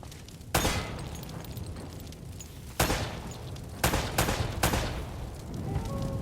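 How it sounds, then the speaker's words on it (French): Sharp gunshots from the Uncharted video game, fired at lamps: four separate cracks spaced irregularly over a low background hum, with no talk. "Essaie de tirer sur une de ces lampes."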